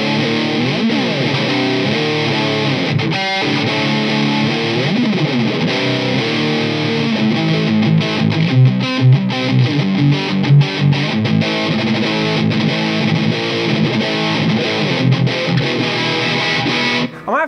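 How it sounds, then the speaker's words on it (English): A Jackson Pro Series Rhoads RR3 electric guitar with Seymour Duncan distortion pickups plays loud, heavily distorted riffs and chords without pause, with no voices heard. "These Seymour Duncan distortion pickups are awesome as well."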